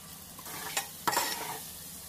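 Onion and curry leaves fry in a pan for pumpkin curry, a steady close sizzle broken by two sharp bursts as the ingredients are stirred, with no talking.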